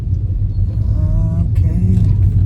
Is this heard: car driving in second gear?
yes